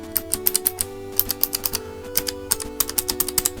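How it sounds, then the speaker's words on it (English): Clicky mechanical keyboard switches pressed with the keycaps removed, giving a steady run of sharp, close, bright clicks in quick irregular bursts, typing-like and alone. "It's got really clicky keys, so I'll let you listen."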